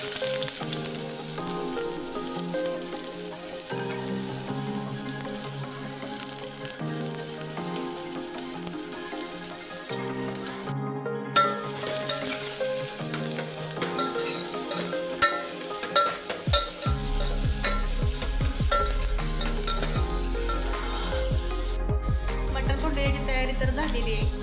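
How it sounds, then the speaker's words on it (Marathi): Sliced onion frying in hot oil in a pot gives a steady, close sizzle with stirring scrapes and some clatter throughout, while music plays underneath. "पातेल्यात तेल टाकून कांदा भाजून घ्यायचा पहिल्यांदा."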